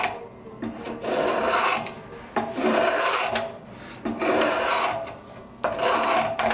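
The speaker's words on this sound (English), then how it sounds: "So I'm going to use my spoke shave to kind of get this more round" A spokeshave shaving hard old wood while rounding a wand blank, four rhythmic rasping strokes about a second and a half apart, close and clear with short pauses between passes.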